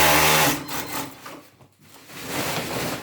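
A sewing machine stitches a straight seam on a volunteer coverall, a loud buzzing run that fades, stops briefly and starts up again.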